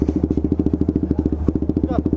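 A motorcycle engine runs near the microphone on a race circuit, its pulsing beat steady and fast with a few clattering thumps mixed in.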